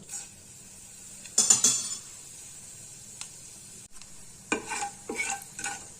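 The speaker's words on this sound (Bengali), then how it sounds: "ফোড়নটা একটু ভেজে নেব" Dried red chili and black cumin fry in about a spoonful of oil for a Bengali tempering, a faint, close sizzle broken by a few brief stirring scrapes against the pan.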